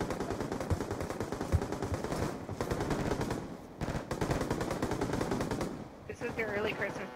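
Rapid machine gun bursts from a video game fire continuously at steady loudness, with brief gaps before the firing resumes, set over a dense backdrop of game sound.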